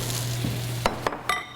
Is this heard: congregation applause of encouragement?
no